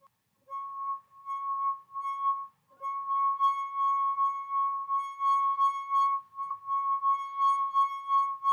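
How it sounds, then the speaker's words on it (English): A wet finger rubbed around the rim of a drinking glass makes it sing with a pure, sustained ringing tone. The tone breaks off briefly twice, then continues steadily, pulsing gently with each pass of the finger. "If I get my finger wet and run it around the edge of the glass, we can make it oscillate."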